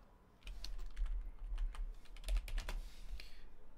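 Code being typed on a computer keyboard during Rust programming, heard as close, quiet, irregular key clicks with a quick flurry near the end.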